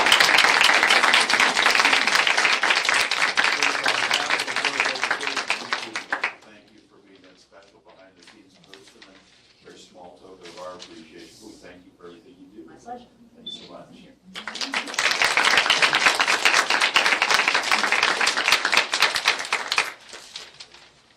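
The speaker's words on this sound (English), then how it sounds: "So just if you don't mind giving Teresa a round of applause." A hall audience at a school board meeting bursts into loud, sustained applause for Teresa, stops for several seconds while people talk quietly, then claps hard again and keeps going to the end.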